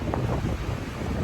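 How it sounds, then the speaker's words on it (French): Strong wind buffets the microphone outdoors in a continuous, loud rumbling roar that fills the whole moment with no pause. "il y a beaucoup de vent."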